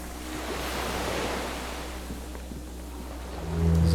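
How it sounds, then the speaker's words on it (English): Distant cargo ships and water in the Disco Elysium video game: a soft, steady wash of waves over a low rumble, with a deep horn-like tone swelling near the end. "The distant sound of cargo ships, signal horns echo on the water."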